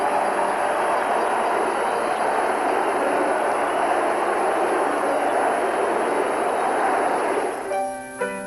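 A high-speed French TGV train rushes along the tracks with a loud, continuous roaring hiss that stays steady before tapering near the end, where a faint tonal whine appears.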